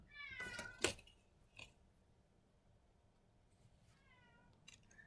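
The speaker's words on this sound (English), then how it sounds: "Our kitty wants to be outside," A house cat meows to be let outside, with two clear close meows near the start and a fainter call near the end, separated by quiet room tone.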